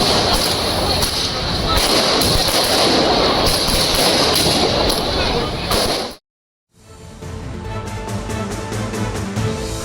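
Firecrackers burst in rapid, crackling volleys at a BJP alliance celebration of a Maharashtra assembly election win, loud and dense before a brief cut, then continuing as sharper, more scattered pops.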